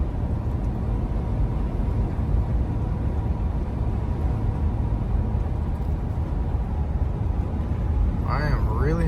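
A 2025 Ford F-450 Platinum pickup, towing, holding ninth gear with engine braking, gives a steady, loud, broadband drone of engine and road noise throughout, with a brief chirping sound near the end.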